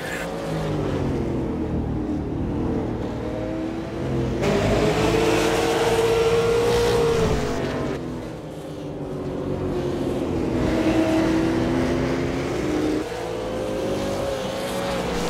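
Stock cars race at Langley in a sim racing game, several engines droning together and rising and falling as they circle the track, with bursts of louder passes, steady and fairly loud throughout.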